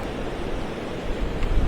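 Sea waves wash onto Versova beach in Mumbai at night, a steady broad rush of surf with wind buffeting the microphone, swelling slightly louder toward the end.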